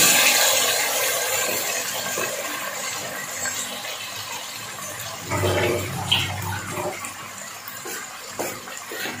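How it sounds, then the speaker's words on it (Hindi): A little water poured into frying masala of garlic-ginger paste, tomatoes and spices, giving a splashing gush and a burst of sizzle midway through alongside steady pan noise. "और ये थोड़ा सा पानी जाएगा ताकि मसाले जले ना।"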